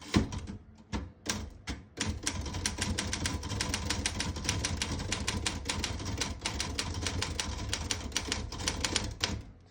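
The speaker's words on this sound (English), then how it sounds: "I'll type a sentence on the next line." Keys clatter in a fast, steady stream on a 1937 Royal KHM vintage desktop typewriter with elite typeface, with a few separate strikes first, then close, crisp rapid typing with no talking.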